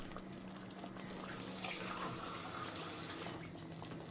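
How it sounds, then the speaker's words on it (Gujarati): Water is poured into a pan while cooking, a soft continuous trickling rush that holds steady and fairly quiet for several seconds. "આપણે પાણી એડ કરી દઈએ."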